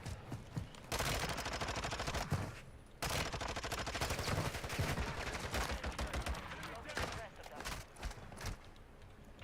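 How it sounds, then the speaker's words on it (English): Mortar and gunfire in an online video game battle, dense and loud with rapid overlapping bursts that run almost continuously, broken by a couple of brief lulls, with voices talking at times underneath. "Somebody's mortaring our direction."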